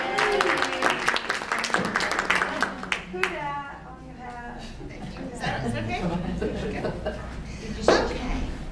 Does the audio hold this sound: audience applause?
yes